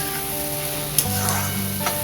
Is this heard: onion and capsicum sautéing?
yes